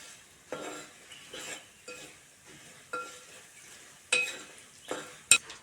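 Ground spices with fenugreek powder and asafoetida being stirred in a pan, with soft scraping strokes in an uneven rhythm, a faint sizzle underneath, and one or two sharper clinks of the spoon against the pan near the end.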